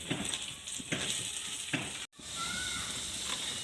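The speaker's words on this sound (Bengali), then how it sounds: "আদাটা একটু ভালো করে নেড়ে নেব" Minced ginger sizzles and crackles as it is stirred and fried in a pan for a restaurant-style egg chop, with scraping strokes of the spatula and a brief break midway before the steady frying resumes.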